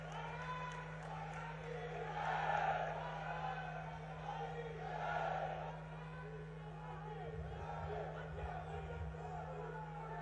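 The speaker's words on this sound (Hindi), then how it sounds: "तालियों की असीम गड़गड़ाहट से हम उन्हें आमंत्रित कर रहे हैं" A crowd at a Gwalior Airport foundation-stone event greets Union Home Minister Amit Shah with rising and falling waves of cheering and shouts, somewhat distant and muffled beneath a steady electrical hum.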